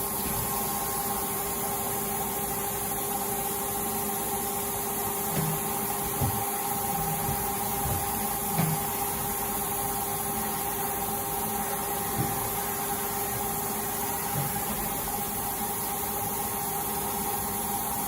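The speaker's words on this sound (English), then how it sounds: "we are going to go ahead and run the machine a bit for you now" A 2014 Kitamura Mycenter 3XG vertical machining center with a 15,000 RPM spindle runs in a shop, giving a steady mechanical hum with sustained tones and a few faint clunks, while an air compressor sits close by.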